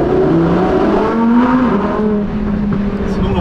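A Lamborghini engine revving loudly under a bridge, a close, rising and falling roar that reverberates off the structure, with a brief voice heard over it.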